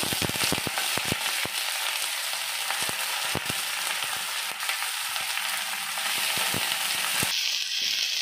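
Garlic and moringa leaves fry in a pan for a moringa-leaf mash, giving a close, steady hiss of sizzling oil with frequent sharp crackles and pops and no voices.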